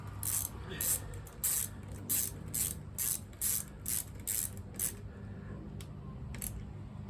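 A Harley-Davidson motorcycle battery terminal being tightened with a hand tool, giving a run of quick, evenly spaced ratchet clicks close by, pausing and then a few last clicks near the end, over a low steady background hum.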